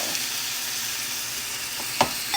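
Steak frying in a hot pan for hibachi, a steady close sizzle with a brief sharp clink near the end and no talking.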